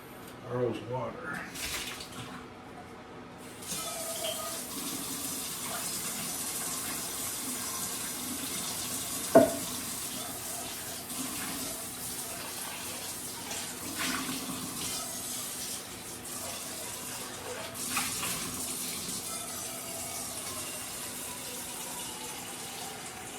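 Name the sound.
tap running water, filling a water bowl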